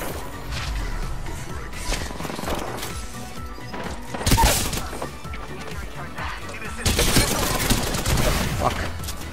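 Havoc rifle fire in Apex Legends, fitted with an extended mag, comes as rapid bursts and sharp cracks mixed with impacts and game clutter, loudest in two heavy flurries.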